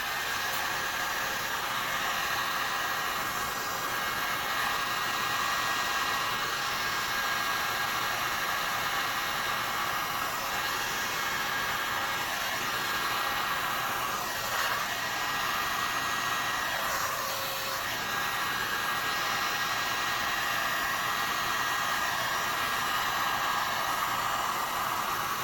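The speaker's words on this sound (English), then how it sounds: "I'm going to move it around a little bit with the heat gun." A heat gun blows steadily over resin on a hummingbird tumbler, a continuous close, loud hiss-like airflow running unbroken from start to finish.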